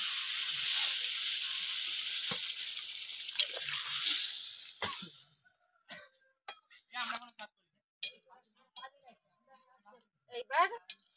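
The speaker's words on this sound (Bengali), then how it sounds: "এবার জল দিয়ে দেবো।" Water hits a hot pan of chicken curry with potatoes and cumin paste, setting off a loud, hissing sizzle that lasts about five seconds before dying away. Scattered clinks and brief voices follow in the quieter kitchen.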